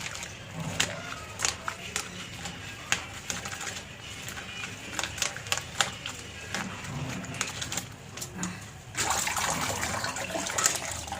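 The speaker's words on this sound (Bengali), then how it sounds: "এরকম পাত্র নেবে আর এইভাবে কচলে কচলে ধোবে" Dhenki shak greens are washed by hand in a container of water, giving repeated soft splashes and wet squelching rubs close by, growing to a louder continuous sloshing near the end.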